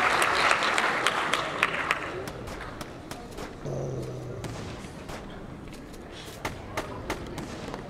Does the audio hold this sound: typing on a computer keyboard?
no